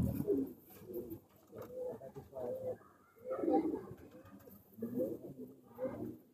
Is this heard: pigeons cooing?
yes